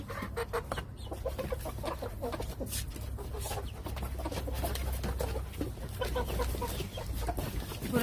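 Several young hens on a rooftop cluck and call nearby in scattered bursts over a low steady hum, with no talking.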